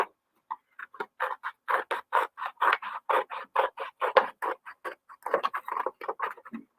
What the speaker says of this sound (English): I'm going to take some scissors. I'm going to cut out my hand that I just traced.